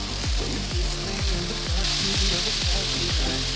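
Potatoes go into a hot pan already spiced with Kashmiri red chilli and ground coriander, giving a loud, steady sizzle with repeated low scraping thumps of stirring throughout.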